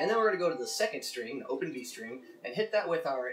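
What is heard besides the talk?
No everyday noises stand out.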